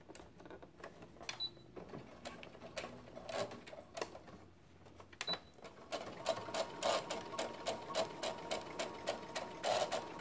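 A sewing machine stitches a skirt pocket seam at a 5/8 inch seam allowance, running in steady bursts of fast rhythmic needle clatter that grows louder and denser toward the end, with no talk.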